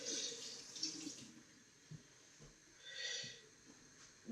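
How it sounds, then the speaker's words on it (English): Water runs from a tap into a sink as hands are washed after handling messy egg yolks, a soft steady hiss in two bursts with a quiet lull between. "you're going to wash your hands because egg yolks are messy"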